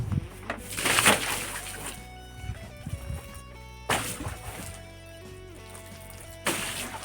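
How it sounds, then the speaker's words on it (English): A bucket of water poured over a car's hood, three separate splashing pours with quiet gaps between them, while faint steady musical tones run underneath. "And now pour the bucket of water on the car."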